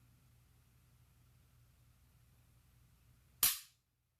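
A Glock 17 Gen 5 MOS pistol with an aftermarket Johnny Glocks disconnector, unloaded, gives one sharp, close mechanical snap of the trigger breaking, followed by near silence.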